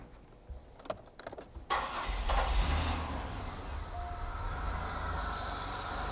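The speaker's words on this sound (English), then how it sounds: "and I'm going to start my car." A car engine cranks with a few short clicks, then catches and settles into a steady low idle rumble, close by with no talking.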